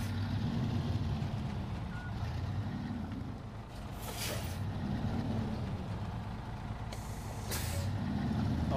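Heavy off-road truck in the Snow Runner video game, a low rumbling engine drone running throughout, broken by two sharp hissing bursts of air brakes released midway and near the end, with no voices.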